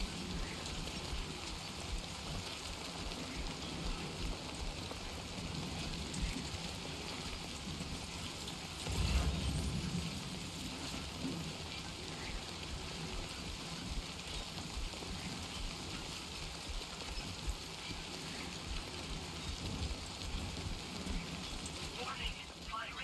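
Steady, close rain patters continuously on surfaces in a video game, forming an even wash of drops throughout with a brief louder rumble near the middle.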